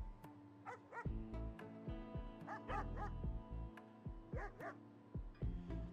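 Dogs in the video game RimWorld bark and yip repeatedly in quick bursts, with whimpering notes in between, over a steady low game hum and background music.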